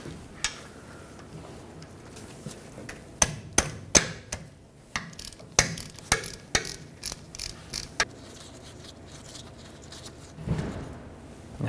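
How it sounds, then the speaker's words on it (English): A ratchet works loose the differential fill plug on a 2011-2016 Ford F-350, giving a run of sharp metallic clicks and taps, irregular and fairly close, with brief pauses between bursts and no talking. "We'll use a 3/8 drive extension or directly the ratchet to remove this plug"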